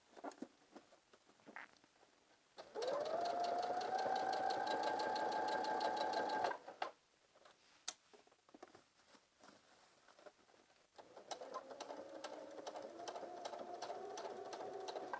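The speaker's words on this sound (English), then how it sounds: "I'm going to sew down as far as I can go" A sewing machine sews a lined pencil skirt in two bursts: a steady, rising whir of about four seconds, then a longer, slightly quieter run after a gap of handling clicks and rustles.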